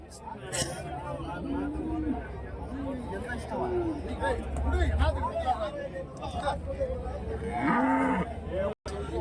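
Cattle low and moo repeatedly at a busy cattle market in Krishnagiri district, several animals calling over one another close by while someone talks and a crowd murmurs in the background.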